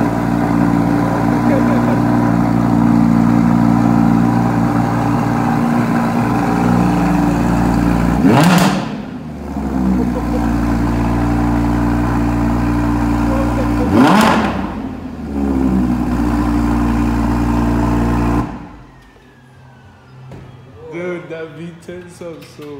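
A loud V10 engine drones close by and revs sharply twice, then cuts to quieter surroundings as people talk.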